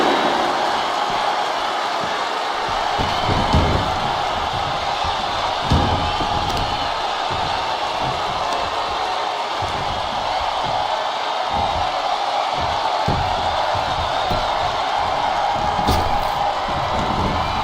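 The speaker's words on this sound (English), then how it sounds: "What a raucous crowd here tonight." A raucous arena crowd at a live WWE SmackDown wrestling event roars and cheers continuously, loud and dense throughout, with sharp slams and impacts from the ring cutting through the steady noise.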